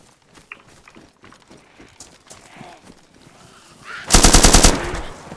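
Gunfire in the video game DayZ, a loud rapid burst of automatic shots near the end after quieter rustling and movement sounds, with a faint voice in the background.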